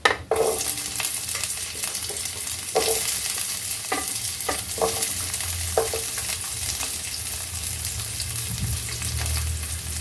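Shallots for sambar hiss and sizzle steadily in hot oil, with a sharp burst as they hit the pan and occasional scraping stirs.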